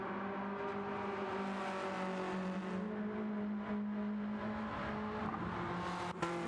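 Race cars circling a track in a sim racing video game, a continuous engine drone with shifting pitch as cars pass and accelerate, steady and fairly loud with a brief sharp click near the end.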